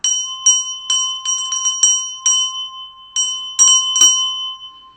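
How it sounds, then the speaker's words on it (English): A small meditation bell is struck again and again in quick irregular strokes, each bright metallic tone ringing briefly, clear and close with nothing else heard. "Let the vibes of this bell"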